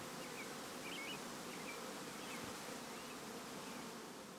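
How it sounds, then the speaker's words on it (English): A soft, continuous hum of nurse bees buzzing on a hive frame, faint and steady with occasional individual buzzes rising above it, no voices. "Those would be the nurse bees right there."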